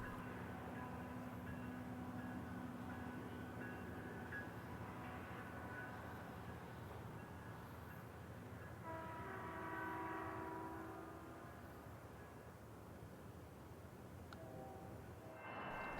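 Metrolink commuter train climbing the Box Springs grade near Riverside, a steady distant engine rumble with faint rail noise and brief horn-like tones, carrying on without a break.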